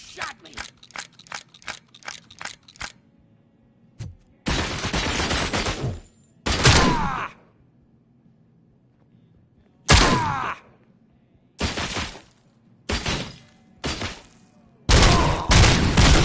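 Gunfire in the video game Robocop: a quick string of about eight sharp single shots opens, followed by separate loud bursts of automatic fire, some long and some short, with quiet gaps between them.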